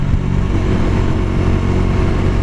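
A Bajaj Dominar 400 motorcycle under acceleration, a loud, steady engine roar heard up close from the saddle with a rushing wind layer and no voices.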